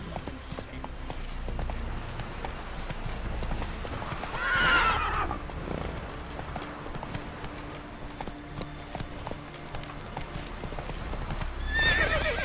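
Roach the horse gallops in The Witcher 3, a steady loud clip-clop of hooves under a constant wash of wind and movement, with a whinny near the middle and another toward the end.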